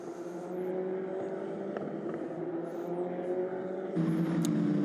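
Formula Regional Europe single-seater race car at speed on a circuit, engine note sustained and droning at high revs with a brief shift in pitch, heard from trackside distance, no speech.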